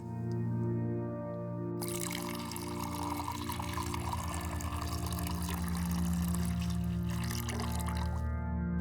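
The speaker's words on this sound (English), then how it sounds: "Pouring on the hot water." Hot water is poured over a herbal tea blend that includes passion flower, a steady gurgling pour lasting several seconds over a soft sustained hum, then tapering off.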